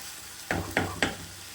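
Green chillies frying in a pan for pickle, with three short stirring scrapes and a soft sizzle in a quiet kitchen.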